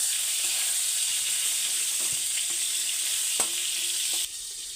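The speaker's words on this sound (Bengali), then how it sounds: "পটলটা আমার সম্পূর্ণ ভাজা হয়ে গেছে" Pointed gourd (potol) frying in oil, giving a steady, bright hiss of sizzling with a few faint spatula taps, close by and with no voices, until the sizzle drops off abruptly near the end.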